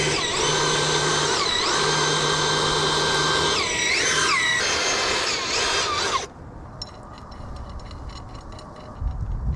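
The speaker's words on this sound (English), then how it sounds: "We're gonna drill a hole through the tree over here." A power drill boring a hole through a tree whines loudly at varying speeds, revving up and down close by, then stops abruptly, leaving quieter clicks and rustling.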